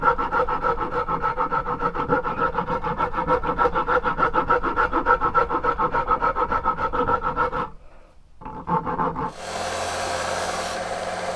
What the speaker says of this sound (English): rounding this top over, which I'll just do with a rasp